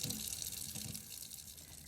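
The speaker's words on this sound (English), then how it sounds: "Once you see that all the water has run clear, then you know you've gotten all of the product out of the brush" Tap water runs steadily into a sink while makeup brushes are rinsed, a continuous close splashing rush with no pauses.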